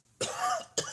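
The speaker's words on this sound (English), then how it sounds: "Darn cough just won't go away." Two quick, close coughs from one person, a harsh rough burst followed by a shorter second one.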